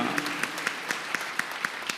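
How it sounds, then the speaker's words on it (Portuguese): Congregation applause during a church service, a loud, sustained crowd clapping. Sharper rhythmic claps stand out regularly above the dense wash of hands. "aplauda ao noivo e aplauda ao Cordeiro"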